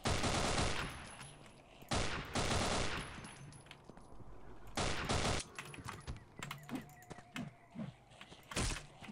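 Pistol gunfire in the horror game Afraid of Monsters, several loud sharp shots in bursts separated by pauses, followed by smaller clicks and clatters.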